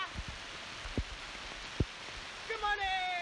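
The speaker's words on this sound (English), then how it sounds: "It's raining super hard." Heavy rain falls steadily at a riverside campsite, a constant hiss of drops on surfaces with a few sharp taps near the mic, followed by a brief faint tonal sound at the end.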